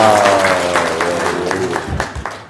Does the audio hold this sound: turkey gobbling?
no